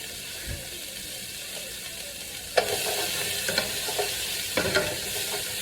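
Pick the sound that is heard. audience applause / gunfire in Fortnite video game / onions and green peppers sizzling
onions and green peppers sizzling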